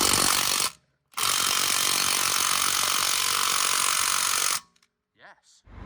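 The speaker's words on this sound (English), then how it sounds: "if you use an impact gun on a wheel and you're trying to undo it" An impact gun undoing the wheel bolts on a BMW E46, two loud continuous hammering bursts, a short one then a long steady one lasting several seconds, followed by quiet clinks.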